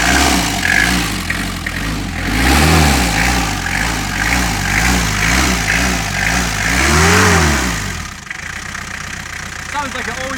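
An LDV 400 van engine, started after a year of neglect, revs up and down in repeated surges with a rough, rumbling, always-noisy exhaust, then drops back toward idle near the end.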